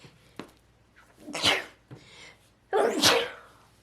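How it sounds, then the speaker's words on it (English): Two sharp sneezes, each after a quick breathy intake, close and fairly loud with a short pause between them. "I think I'm gonna sneeze"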